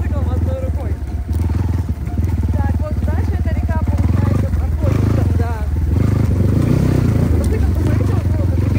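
A motorcycle ridden one-handed along a potholed rural road toward an abandoned village drones loudly and continuously up close, its engine pulsing unevenly with rattling and clattering jolts from the rough surface.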